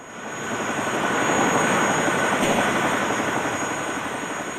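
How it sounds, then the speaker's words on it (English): Loud, steady rotor and engine roar of a Vietnamese helicopter, empty after dropping a load of rice at Kontum in 1972, swelling to a peak and then easing slightly as it moves away. "the Vietnamese helicopter drops its load of rice and flies off empty"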